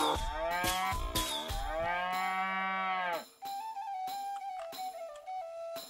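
Cows moo in the South Park video game The Stick of Truth, on a farm: a few short close calls followed by a long, loud, drawn-out moo, then a sustained tonal drone with cowbell-like clanks.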